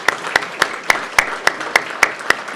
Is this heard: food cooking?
no